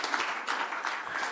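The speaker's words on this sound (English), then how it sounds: "please once again give the panel a very warm round of applause for their presentations" A conference audience gives a panel a warm round of applause, a brief, soft, steady patter of clapping heard from a distance.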